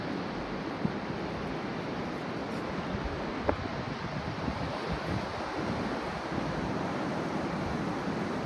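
Sea waves washing onto the beach at Henry Island, Bakkhali, a constant broad roar of surf mixed with wind rumble on the microphone, steady and unbroken.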